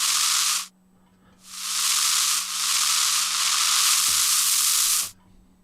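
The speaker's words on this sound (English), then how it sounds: "you've got a rain stick." A sampled rain stick from a shake-and-scrape VST plugin pours out a bright, hissing rush in distinct bursts: one short pour, a pause, then a long sweeping cascade that swells, dips and carries on before stopping abruptly.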